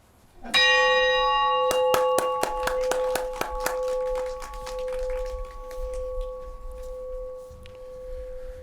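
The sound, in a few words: bell rung at a council swearing-in ceremony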